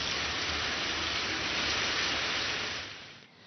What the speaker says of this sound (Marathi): काही ठिकाणी मुसळधार पाऊस बरसतोय